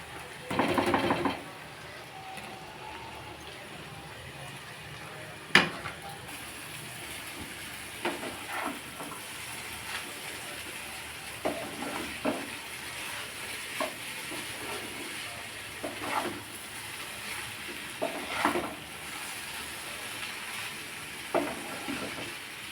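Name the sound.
chowmein being added and stir-fried in a pan with vegetables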